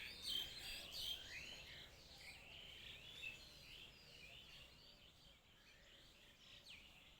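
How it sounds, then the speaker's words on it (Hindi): Village birds chirp in the rain, with faint, scattered tweets coming thickest at the start, over a quiet, hissy background with no voices. "ये देखिए, चिड़िया सब बारिश का आनंद ले रही हैं।"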